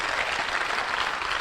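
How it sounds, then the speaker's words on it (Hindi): Audience applause at a motivational talk, a steady dense wash of clapping hands filling the room with no break. "जोर ताली अपने लिए मारी"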